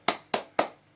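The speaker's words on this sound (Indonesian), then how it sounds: "Tepuk semangat." A group performs a rhythmic spirit clap at a training session: three sharp, evenly spaced claps in quick succession, close and crisp, with no voices.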